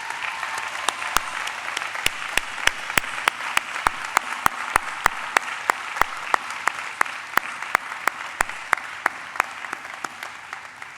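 Commencement audience at Manhattan College's 2019 spring graduation giving a long round of applause, steady clapping from a large crowd punctuated by sharp nearby individual claps that continues evenly throughout.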